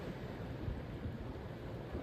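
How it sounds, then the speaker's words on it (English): Gentle ocean waves washing against the shore near sunset, a soft steady wash of surf with a faint breeze, low and distant, continuous and free of voices. "The waves move slowly against the shore"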